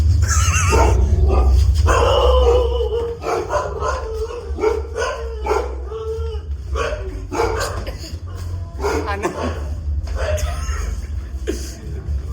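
Several dogs bark close by in loud, repeated bursts, some drawn out almost like howls, over a low background hum.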